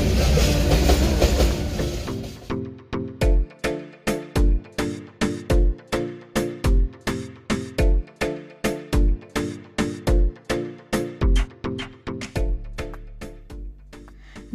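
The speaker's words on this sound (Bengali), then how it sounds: "ঢাকা থেকে আসছে, পারাবত এক্সপ্রেস।" The Parabat Express from Dhaka rolls past close by: a rushing roar at first, then a long run of loud, evenly spaced wheel clatters that thump in steady rhythm, fading toward the end.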